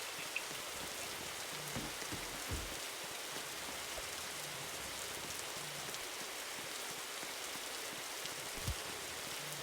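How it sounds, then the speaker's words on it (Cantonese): Rain falls as a constant, soft hiss of drops, faint and even throughout, with a few low thumps near the microphone and no talking. "要落雨啊！"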